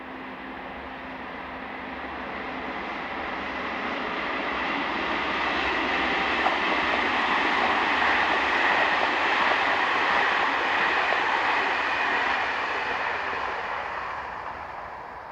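French train 22269, the 07:20 from Lyon to Marseille, passes with a broad rushing roar that swells as it nears, holds loud for several seconds and then fades slightly.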